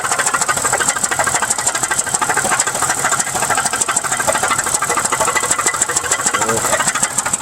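A 2001 Pontiac Grand Prix GTP engine with a bad piston runs steadily up close, its rough idle full of knocking and rattling ticks that repeat without a break, and nobody talks.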